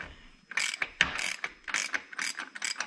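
A ratchet wrench clicks in quick, close bursts of several strokes while removing an inch-and-an-eighth engine block plug on a Kioti tractor for a block heater install.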